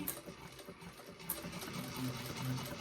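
A sewing machine back stitches a bag seam, a steady close mechanical whir with faint rattling from a shaking table, running continuously without speech.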